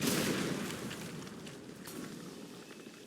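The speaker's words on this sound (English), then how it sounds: "Just a little explosion." A small explosion in the flintlock-era video game Flintlock: Siege of Dawn bursts loudly at the start, then fades into a rumbling, crackling tail with scattered debris-like pops over about three seconds.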